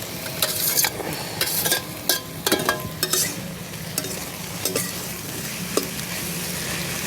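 Fried shrimp stirred into boiled water lily stems in a pan, with busy close scraping and clattering of the spoon over a continuous sizzle, alone and fairly loud.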